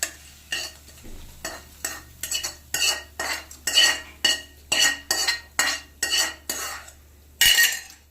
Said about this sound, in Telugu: స్టవ్ ఆఫ్ చేసేసి మనం ముందుగా దద్దోజనం కలుపుకున్న